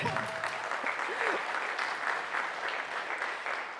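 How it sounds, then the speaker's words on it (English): Audience applause at a high school open house, a dense steady clatter of many hands clapping that holds for several seconds without a break. "So give her a round of applause."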